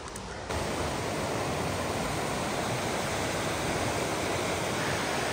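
Trapper Creek rushes steadily along a hiking trail in the Diamond Peak Wilderness, a dense, continuous close-up water roar that stays even from start to finish.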